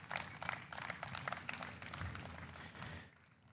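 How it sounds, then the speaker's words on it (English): An audience at a livestock show's breeding heifer event applauds, a dense steady wash of clapping for a few seconds that thins out toward the end. "let's give those kids a big round of applause"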